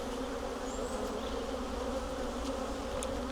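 Around a group of beehives, a crowd of honeybees drones in a steady close hum, broken by faint fly-by whines of single bees, with no talking.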